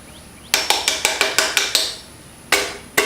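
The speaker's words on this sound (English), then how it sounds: "go ahead and give it a couple whacks" Sharp hammer whacks on a build project, a quick run of about eight evenly spaced strikes followed by a pause and two more separate blows, loud and close with no talking.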